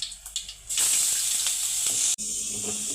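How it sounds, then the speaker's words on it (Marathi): Mustard seeds, cumin and green chili paste hit hot oil and burst into a loud, bright sizzle with light crackles at the start. It hisses steadily, cuts off abruptly for a moment, then resumes. "तेल आपलं गरम झालेलं आहे त्यामध्ये थोडीशी मोहरी थोडीशी जिरं हिरव्या मिरचीचा ठेचा"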